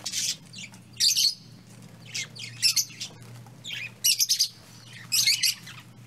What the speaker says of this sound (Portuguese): Periquito australiano.